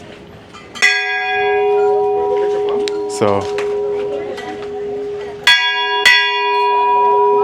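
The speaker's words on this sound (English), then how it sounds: "So apparently it's like tradition to ring the bell." A traditional bell in Guatemala rings out with several loud, resonant strikes, each leaving a long metallic hum that fades slowly; a brief voice speaks between the strikes.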